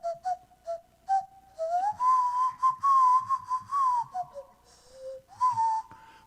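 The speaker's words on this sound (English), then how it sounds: "It's called a nose flute as well, not a whistle." A nose flute plays a gliding, wavering whistle-like melody, sliding between notes in a loud, breathy tone close up with no talk over it.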